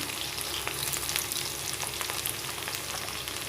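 Mustard seeds, chillies and crushed garlic fry in hot oil for a drumstick leaf poriyal, giving a steady, soft sizzle scattered with small crackles and pops.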